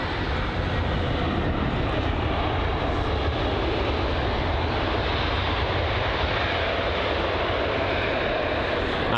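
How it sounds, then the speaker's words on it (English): British Airways Airbus A320neo touching down at London Heathrow, heard as a steady, loud roar of jet engines and rushing air that holds constant throughout with no voices. "Yeah, it's the A320neo. That's just about to touch down."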